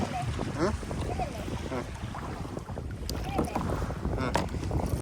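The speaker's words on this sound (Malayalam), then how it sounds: "അങ്ങനെ ഞങ്ങളിത് ഞങ്ങളുടെ കയാക്കിങ് സ്റ്റാർട്ട് ചെയ്തിട്ടുണ്ട്" Paddles splash and water laps around kayaks on the sea in the Maldives, with steady wind buffeting the microphone and people talking throughout.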